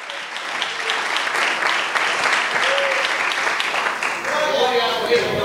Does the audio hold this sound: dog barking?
no